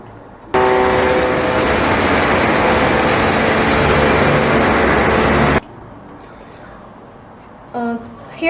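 A hydraulic station on an automatic T ceiling production line starts abruptly into a loud, steady machine whine with a droning hum, runs for about five seconds, then cuts off sharply, leaving quieter background noises.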